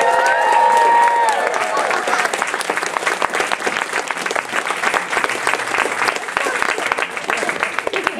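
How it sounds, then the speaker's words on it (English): Convention crowd at the Minamicon 28 closing ceremony applauding and cheering the Robot Wars team, a brief whistle-like tone at the start, then steady dense clapping that holds at a loud level throughout. "Big round of applause for Ty and the whole team!"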